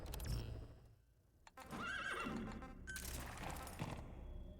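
A horse in Metal Gear Solid V: The Phantom Pain whinnies loudly and clearly, a rising then falling neigh, followed by another shorter call amid game sounds and faint hoof clops.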